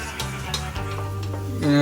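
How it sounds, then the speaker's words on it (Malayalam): Onions sizzling and being stirred in a pan, with scraping and clinks of a utensil, rising to a louder sizzle at the end. "ചെക്കൻ സബോളിയും ഐറ്റംസ് ഒക്കെ വാട്ടിക്കൊണ്ടിരിക്കുകയാണ്"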